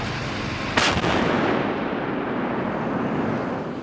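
An Archer self-propelled howitzer fires one heavy boom that rolls out into a long rumbling echo over constant outdoor background noise.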